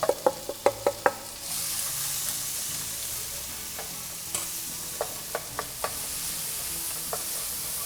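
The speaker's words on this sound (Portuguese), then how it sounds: "E a gente vem para a cebolinha, vamos dourar essa cebola." Onion frying in butter in a pan, a bright continuous sizzle with repeated sharp spoon clacks against the pan from stirring, close and loud, no speech.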